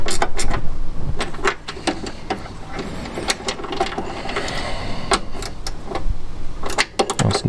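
A ratchet spanner tightens a 10mm bolt on the engine of a classic Fiat 500 being refitted, giving a loud, rapid series of clicking ratchet strokes at close range under a continuous background hum.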